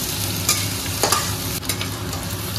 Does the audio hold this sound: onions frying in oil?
yes